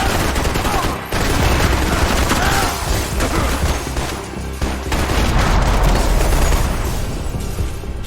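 Heavy Max Payne 3 gunfight in a morgue: continuous loud automatic fire, overlapping shots and booming impacts with only a brief pause, and a voice heard faintly amid the combat.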